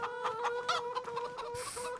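Chickens cluck in the Farming Simulator 25 video game, a steady run of short, bright calls repeating close by with no talking over them.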